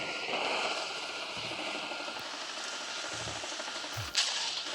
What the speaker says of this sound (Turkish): Tamam ben helikopteri çağıracağım değil mi? Çağır helikopteri gelsin.